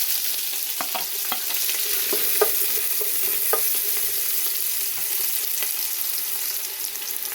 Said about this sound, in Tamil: அந்த வெங்காயத்தை இதுக்குள்ளே போட்டு வதக்க போகிறேன்